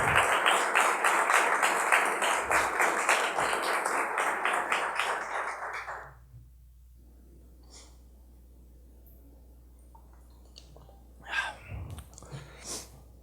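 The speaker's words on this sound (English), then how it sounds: "How about a round of applause for my wife, Lisa, and her global community service on behalf of Africa Yoga Project." An audience claps loudly and steadily at a corporate launch event for a fiber and data network, a dense crowd applause lasting several seconds before dying away to near silence with a few faint sounds.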